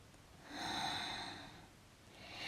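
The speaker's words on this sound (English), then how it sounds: "Deep breaths." A single slow, deep breath drawn in and let out during a yoga flow, swelling and fading over about a second, close and fairly soft, with the start of another breath at the end.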